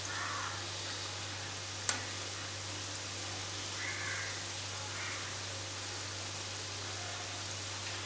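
Cake dough deep-frying in hot oil in a home kitchen, a steady soft sizzle and crackle running throughout, fairly faint and even, with one brief sharp tick partway through.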